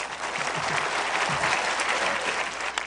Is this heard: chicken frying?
no